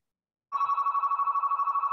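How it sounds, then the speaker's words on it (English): A telephone rings in a home during an online meeting, starting after a short silence and pulsing steadily and loudly with a bright electronic trill, alone without talk. "That's your phone we're listening to, Marty."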